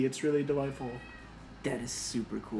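A pet cat named Dusty meows several times nearby, with drawn-out rising and falling cries under and between two people chatting.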